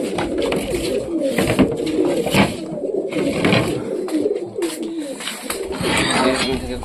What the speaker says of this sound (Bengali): দেখুন দর্শক, কবুতরগুলো গরমে একদমই অস্থির হয়ে আছে।